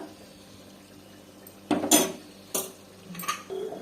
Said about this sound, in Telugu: కుక్కరు మూత పెట్టేసాము